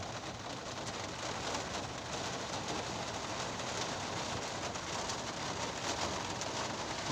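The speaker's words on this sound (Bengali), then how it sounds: "দুমচা হাওয়া প্লাস বৃষ্টি দেখো অবস্থা" Heavy rain with strong gusting wind during a storm in Krishnanagar, heard as a dense, constant roar of rainfall hitting surfaces that holds steady and loud throughout, with no voices.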